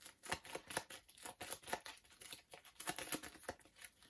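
Board game cards for Dark Souls: The Board Game being shuffled on a table, a run of crisp, rapid papery riffles and crinkly flicks in several quick bursts, close and fairly quiet, with no voices.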